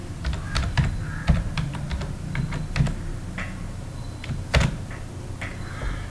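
Keys clatter on a computer keyboard in quick, uneven bursts of sharp clicks, close and moderately loud, with short pauses between groups of keystrokes and no talking.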